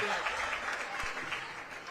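Martinsburg volleyball fans in a high school gym applaud departing seniors, a steady dense wash of clapping filling the whole stretch at close range, with faint crowd voices mixed in.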